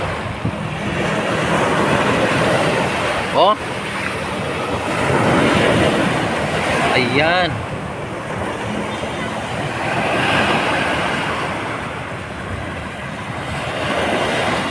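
High ocean waves crash and surge at Dolomite Beach in loud, sustained washes with wind buffeting the microphone, while a person talks briefly over the roar.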